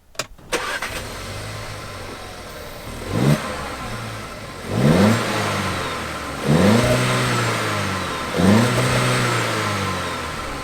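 A 2021 VW Jetta R-Line with a six-speed manual starts up and settles to idle, then gets four sharp revs in a row, each one climbing to a loud peak before falling back.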